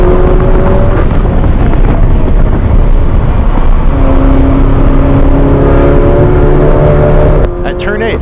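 Race car accelerating hard on the High Plains Raceway track after turn 5, with loud steady engine drone and rising tonal whine throughout, ending in a sharp shift near the end; talking is heard over the engine.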